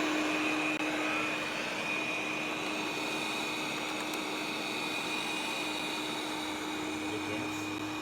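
A Neabot N1 robot vacuum cleaner runs with a steady, loud motor whir and a constant high whine, droning evenly and close throughout with no talk.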